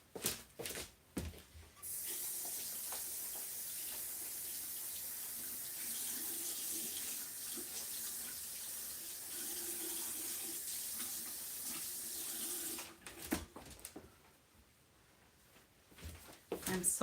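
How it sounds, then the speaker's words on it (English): Tap water runs into a sink in a home crafting space while craft masks are rinsed. A steady, close hiss of water flows for about eleven seconds, with brief clattering handling before and after. "And these 3 masks I just need to rinse off as well."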